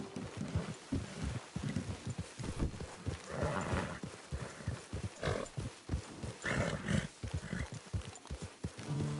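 Horse hooves clip-clopping in steady rhythm across the scene in Red Dead Redemption 2 online, with bursts of whinnying and snorting mixed among the footfalls, fairly close and continuous.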